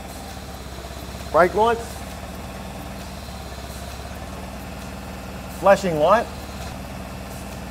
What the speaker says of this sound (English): I'm now going to start the machine to check the brake lights and other warning devices.